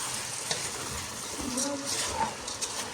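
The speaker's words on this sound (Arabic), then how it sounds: "بدي اعمل تقليبة للرز كرمالي تتغلف حبة" Rice being stirred in oil in a pot, a soft continuous sizzle with scraping spoon strokes, close and moderately quiet, with a faint voice underneath.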